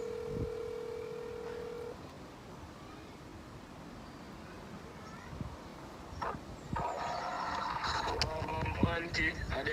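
A phone dials out to place a call, with a steady tone at the start followed by quieter background noise, some soft voices and faint clatter near the end.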